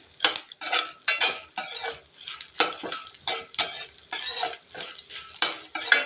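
Cashews frying in oil in a pan while being stirred, repeated bursts of scraping and rattling against the pan over a light sizzle, close and distinct with no talking.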